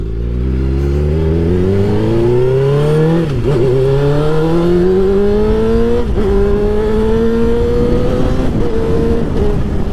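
A loud, deep motorcycle engine fitted with a K&N air filter panel and a large aftermarket exhaust revving up repeatedly, its pitch climbing and dropping between throttle blips, with a heavy rumbling exhaust throughout.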